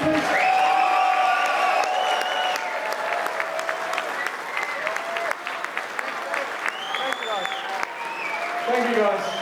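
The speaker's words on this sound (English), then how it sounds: "applause for everybody, please." A crowd at an EB Games tenth-anniversary event applauds and cheers, with whoops rising over sustained clapping, voices and shouts mixed through the whole stretch.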